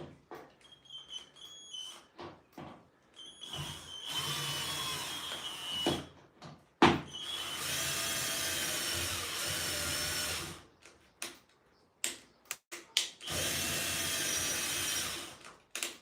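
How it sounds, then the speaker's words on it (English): Power drill driving a screw into wood in a budget home workshop build, a sustained loud motor whine over several seconds, stopping and restarting in shorter bursts, with brief quiet gaps between runs. "let's get this screw on"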